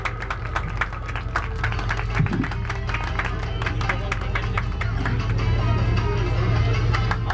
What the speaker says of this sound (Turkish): Büyük alkışlarınızla ve müzikle Sedat Kaya'yı sahneye davet ediyorum.